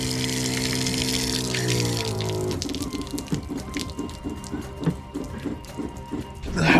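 A small electric water pump hums, then water runs into a fold-out kitchen sink built into the door of a Ford Excursion overland camper, a steady trickle close by with faint ticking.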